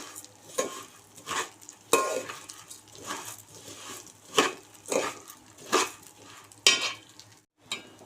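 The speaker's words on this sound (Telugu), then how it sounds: "ఇలా నెమ్మదిగా వేయించుకుంటూ ఉండాలి" Bambino vermicelli is slowly roasted in a pan while a spoon stirs it, giving a soft, steady sizzle and a regular scraping rhythm of about one stroke per second with occasional light clinks.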